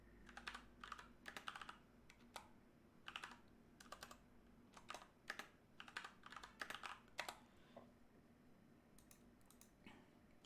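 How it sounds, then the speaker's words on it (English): Quiet, close typing on a computer keyboard comes in irregular bursts of soft key clicks with short pauses between them, alone without talk. "Wait, let me type that in."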